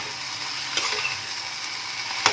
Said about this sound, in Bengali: এই যে এইভাবে 1 মিনিট মতো নাড়াচাড়া করে নেব।